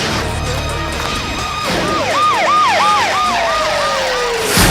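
An ambulance siren wails in a repeating rising-and-falling pattern, loud and close, over a busy background, then sweeps downward as it passes.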